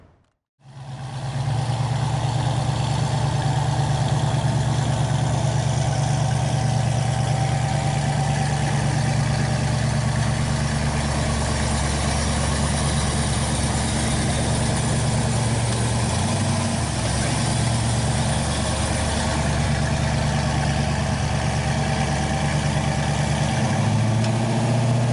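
A 1965 Ford Mustang idles with a slightly lumpy, uneven rumble, loud and steady throughout with a brief dip in the low throb partway through and no talking over it.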